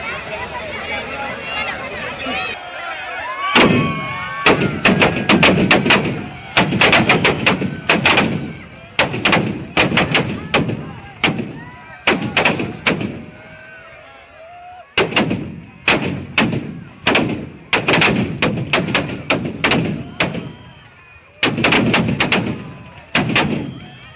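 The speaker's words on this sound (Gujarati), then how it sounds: "ફટાકડા પણ મિત્રો ફૂટી રહ્યા છે" Firecrackers going off at a Ravan Dahan festival in Bhavnagar, a long run of loud sharp bangs in quick bursts with short pauses, booming over a crowd whose talking can be heard between blasts.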